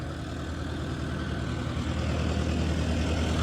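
A tractor towing a trolley runs with a steady low engine drone at moderate distance, the rumble holding even with no talk over it.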